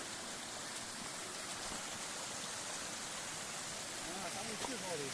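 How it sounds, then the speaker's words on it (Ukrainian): The Khryn waterfalls in the mountains, flowing as a constant broad rushing roar that stays steady and loud throughout, with a voice briefly audible near the end. "А це водоспади Хрин, хто знає за них."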